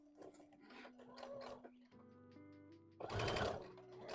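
A sewing machine stitching fleece runs in short whirring bursts, starting and stopping, with a louder, faster run toward the end; close and fairly quiet, with no talk.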